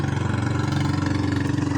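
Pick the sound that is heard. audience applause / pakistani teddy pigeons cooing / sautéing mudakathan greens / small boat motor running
small boat motor running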